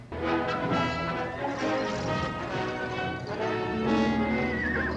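Horses whinny loudly in a movie gunfight scene, with repeated neighs over clip-clopping hooves and crashing movement, close and continuous throughout.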